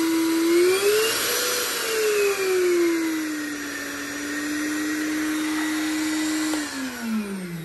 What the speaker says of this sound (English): I can dial that down and you can hear the difference